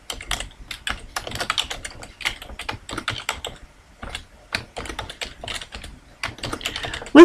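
Fingers tap out a list of names on a computer keyboard, steady clicking key strokes in quick bursts with brief pauses, close and clear, no voices.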